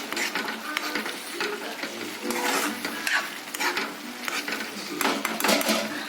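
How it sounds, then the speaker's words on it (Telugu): Okra pieces frying in a pan for a simple masala curry, stirred with a utensil, giving steady sizzling with repeated scraping and clinking strokes, close and fairly loud with no talk. "చేసి పెట్టుకున్న బెండకాయ ముక్కలు వేసుకుందాము."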